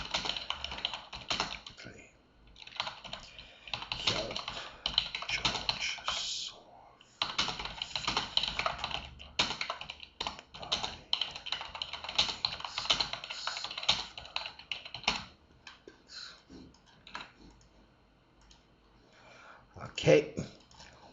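Steady bursts of typing on a computer keyboard in an office during a CRM demo, close and clear, with brief pauses and a faint voice or cough near the end.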